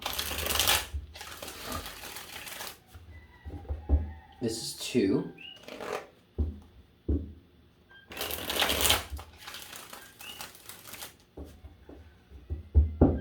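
Repeated riffle shuffles of tarot cards in close, crisp bursts, with a person speaking briefly between them.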